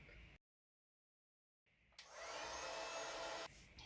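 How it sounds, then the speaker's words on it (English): A heat embossing tool blows with a steady, loud whooshing roar for about two seconds, melting white embossing powder onto purple cardstock after a brief silent gap. "I'm just going to heat emboss it in white onto this piece of purple cardstock"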